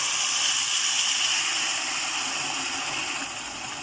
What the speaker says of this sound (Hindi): तो इसमें हम ये गरम किया हुआ पानी ऐड कर देंगे